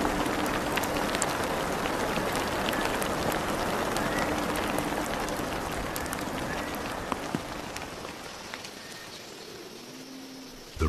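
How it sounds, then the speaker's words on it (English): Steady, dense rain falls close by, a continuous hiss of drops with scattered louder splashes, lasting throughout and easing slightly toward the end. "The rain softens the soil and revives the land."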